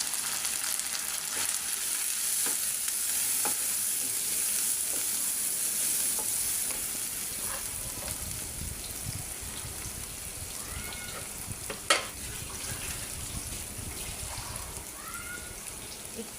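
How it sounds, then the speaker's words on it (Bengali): Cardamom, cinnamon and chili powder fry in hot oil in a pan for chicken curry, a continuous sizzle broken by scattered stirring scrapes and one sharp utensil knock. "এলাচ, দারচিনি, মরিচের গুঁড়া দিই।"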